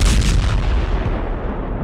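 A bomb blast outside an apartment building gate at the Kremlin: one heavy, booming explosion that hits loud at once and then rolls away as a long, fading rumble.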